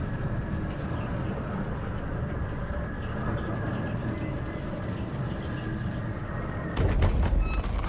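A small train in a horror game rumbles along steadily with a constant droning rattle and faint whine, then a louder clanking burst near the end, with no voices.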